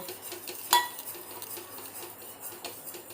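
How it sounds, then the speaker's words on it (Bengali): A spoon scrapes and stirs a thickening mixture in a pan over heat, with one sharp metallic clink early on, then soft, irregular scraping and tapping, close and fairly quiet. "একবারে দিয়েই ভালো করে এটা মেশাতে থাকবো"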